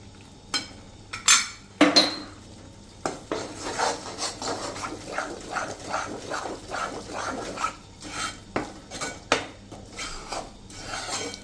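A metal spoon scrapes and clinks against a pan as flour roasts for sukhadi, the stirring strokes repeating in an uneven rhythm, close and fairly quiet.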